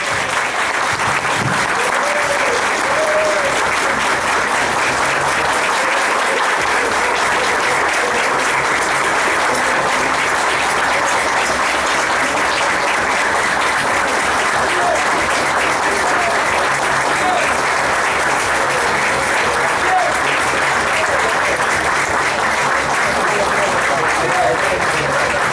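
Sustained applause from a large crowd at a carnival event in Santo Domingo Este, a dense steady clapping texture that holds at full strength throughout, with voices mixed in.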